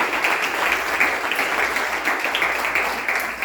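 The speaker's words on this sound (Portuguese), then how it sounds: "Você pode dar uma linda salva de palmas ao Senhor Jesus por essas vovós." Church congregation applauding together, a steady, fairly loud wash of many hands clapping that holds evenly from start to finish with no talk over it.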